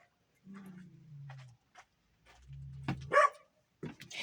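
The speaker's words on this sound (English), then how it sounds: "He barks at everybody, all the trucks that come by." A dog named Brian barks at passing trucks, a few short, fairly faint barks and yips mixed with a person talking quietly nearby.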